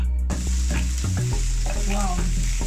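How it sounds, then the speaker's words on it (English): Onion frying in a pan for a vegetable, pawpaw and beetroot salad, a steady close sizzle with a few stirring scrapes and no talk. "Now I'm frying my onion."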